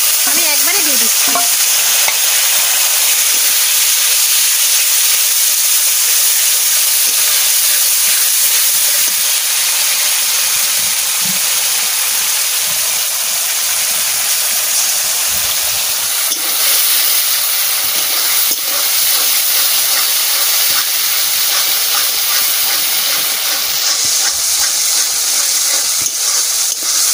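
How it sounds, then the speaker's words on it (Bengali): Cumin, garlic, onion and other spices fry in a pan for a continuous loud, close sizzle and hiss, with occasional stirring scrapes throughout. "মশলা ভাজা হয়ে গেছে"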